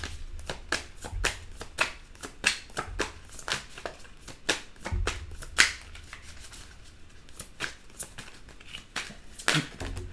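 Tarot cards shuffled by hand during a reading, a steady run of crisp riffling and flicking bursts, close and fairly quiet, with no voice over them.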